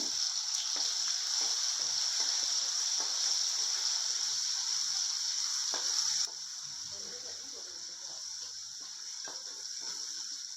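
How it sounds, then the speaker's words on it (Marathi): Ground masala paste fries in hot oil in a pan, a steady close hiss and sizzle that carries on without a break, dropping slightly in level partway through. "भांडं गरम झालंय छान तर त्यात वाटण टाकून घेते"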